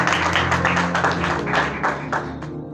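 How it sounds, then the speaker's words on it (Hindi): A church congregation applauds in a dense, steady wash of many hands clapping together, loud and close, with sustained low tones humming underneath throughout. "आइए जोरदार तालियां खुदावंद यसू से बजाते हैं"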